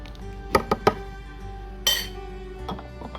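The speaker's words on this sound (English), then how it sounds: "I'm going to mix it up." A spoon clinks against a glass of freshly made carrot, celery and parsley juice from a masticating juicer, a few sharp taps close by, followed by a brief scrape and softer knocks in a quiet kitchen.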